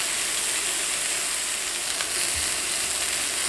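Steak searing in a hot pan just after being flipped, a steady loud sizzle and hiss filling the whole moment without a break.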